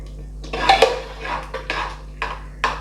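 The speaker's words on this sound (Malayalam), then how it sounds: "ഇത് നമുക്കിനി പരിപ്പിനകത്തോട്ട് ഒഴിച്ച് കൊടുക്കാം." Ground coconut paste being poured and scraped into a pot of cooking dal for a Kerala sadya, giving a series of short clinks and scrapes of a utensil against the vessel, fairly close, with no talk.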